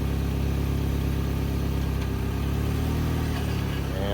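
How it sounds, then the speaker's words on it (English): A 1998 Honda Accord's engine runs at a steady mid-pitched idle nearby, then the note rises slightly as the car creeps forward, with no voices over it. "1998 Honda Accord. Started right up with a jump."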